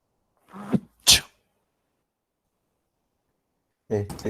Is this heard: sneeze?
yes